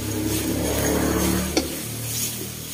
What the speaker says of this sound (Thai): ปิดถนนนะครับเสียงรถนิดนึงนะครับผม